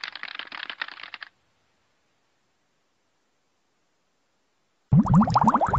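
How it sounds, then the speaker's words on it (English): Fast cartoon keyboard typing from a SpongeBob typing game: a brief flurry of clicks, then silence, followed by a springy, bouncing cartoon effect. "You are now ready to start typing."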